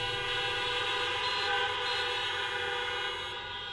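Thousands of horns sound together in a packed Allianz Parque stadium audience at a finance lecture, a loud unbroken blaring wall of tones that tapers off near the end, with no speech.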